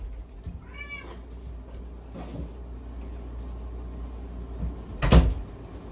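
An indoor cat meows once, a short clear call near the start, followed by a few soft knocks and a sharp cupboard-like bang near the end, with no talking.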